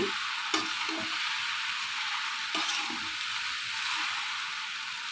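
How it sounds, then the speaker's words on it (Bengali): Okra fries in a hot pan with a constant hissing sizzle while a utensil stirs it, producing a few distinct scraping knocks against the pan, nearby and without talk. "ঢেঁড়সটাকে আমি আরেকটু নেড়ে দিচ্ছি"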